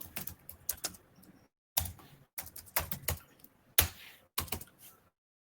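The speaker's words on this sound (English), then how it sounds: "You can type anything here" Typing on a computer keyboard comes through as close, crisp bursts of keystrokes separated by short pauses, fast clattering runs broken by gaps of silence, with no talking.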